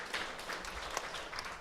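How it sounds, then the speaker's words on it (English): Brief burst of applause from a small audience at a women's conversation event, fairly faint and steady clapping without voices. "that deserves a round of applause"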